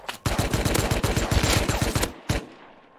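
Automatic gunfire in the survival video game Rust, a rapid burst of close, loud shots lasting about two seconds, then a single final shot and fading echo.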